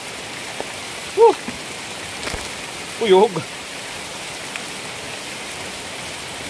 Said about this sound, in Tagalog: Ang guys, oh, lumakas na ang ulan.